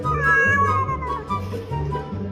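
A cat meows repeatedly in drawn-out, whiny cries, close by, with no talking.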